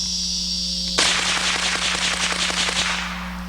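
A lightweight Feather rifle fires a quick string of sharp cracks, about eight shots in rapid succession, loud and close after a steady background hum.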